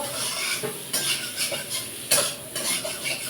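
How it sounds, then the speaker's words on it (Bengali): Boiled potatoes with salt sizzle quietly in a pan while a spatula scrapes and stirs in irregular strokes, close and fairly soft. "আলুটা একটু ভালো করে ভেজে নেব"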